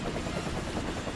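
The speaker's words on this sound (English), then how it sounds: "it's a helicopter shadow? With a minigun." A helicopter shadow armed with a minigun in Persona 5 Strikers gives off a steady, dense rotor whir, loud and continuous throughout with no talking.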